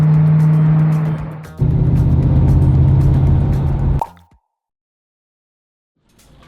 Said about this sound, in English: gives it that beautiful induction sound from the front of the car